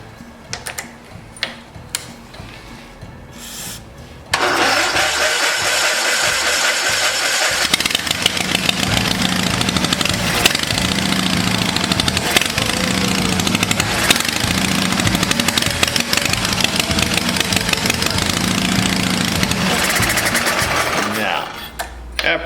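An Onan engine on a vintage Case tractor with hardened fuel-pump diaphragms cranks in short uneven bursts, then catches and runs with a loud steady rapid chugging for many seconds before cutting out, with speech heard over it.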